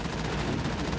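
Rapid gunfire from the Mass Effect video game, a dense continuous burst of shots filling the whole moment at steady loudness, with no talk over it.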